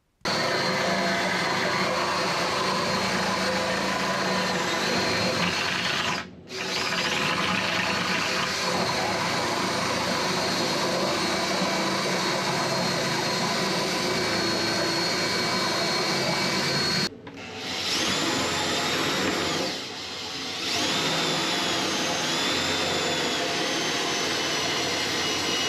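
A Picote hand drain cleaning machine running its chain inside a pipe while clearing an overflowing urinal waste line, a loud continuous motor whine with brief dips in power, close and without talk.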